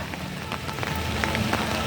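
Rain falls steadily in a park, a soft even patter with scattered brighter drops hitting surfaces, heard close and alone with no talking.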